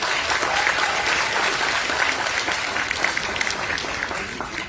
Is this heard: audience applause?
yes